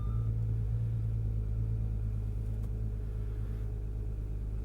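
A 2016 Audi TDI diesel engine idles steadily after a cold start in freezing weather, giving a constant low rumble with no pauses and no voices.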